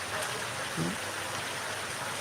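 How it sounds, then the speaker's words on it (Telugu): Heavy rain falls steadily, a dense, even wash of noise throughout, with brief faint voices underneath. "కానీ వాన పడుతుంది"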